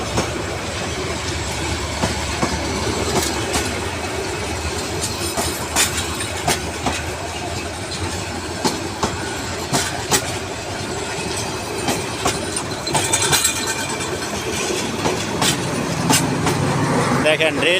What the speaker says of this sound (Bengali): যাত্রী নিয়ে গাড়িটা এইমাত্র ছেড়ে গেল